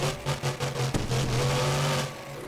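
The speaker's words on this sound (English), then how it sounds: "Listen to that throttle rhythm though. The throttle rhythm is very, very good." Monster truck engine on a competition track revving in rhythmic throttle bursts, loud and close, with several quick blips early on settling into a sustained high-revving roar that fades slightly at the end.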